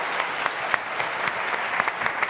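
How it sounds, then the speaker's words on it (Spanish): An audience bursts into dense, steady applause at a talk on artificial intelligence for business, with many hands clapping close and loud, and no voices over it. "¡Un aplauso!"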